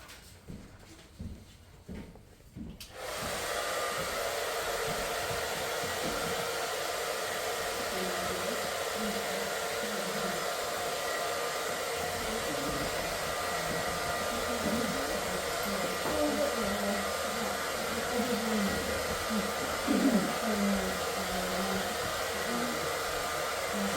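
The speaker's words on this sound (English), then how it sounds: "gonna hit this with a dryer" A hair dryer blows across wet watercolor paint on paper, starting after a few seconds of quiet handling sounds and then running as a loud, steady whirring roar close by for the rest of the time.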